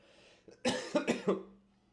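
A few harsh coughs in quick succession, close and loud, ending with a short throat-clearing rasp.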